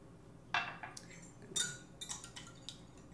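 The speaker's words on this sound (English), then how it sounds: "Whisk that up together" Egg whites whisked in a bowl, a few light metallic clinks and taps of the whisk against the rim, quiet and close, with no talking.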